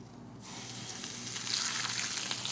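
Cornmeal-coated fish fillet sizzling skin side down in a hot pan, a steady broadband frying crackle that starts abruptly and builds slightly louder, close and continuous with no talk.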